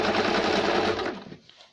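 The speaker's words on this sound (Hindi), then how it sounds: "यहाँ साइड से हम पहले सिलाई देंगे।" Sewing machine runs in a fast, steady rattling burst while stitching along the side of a cloth baby diaper, close by, then stops after about a second and a half.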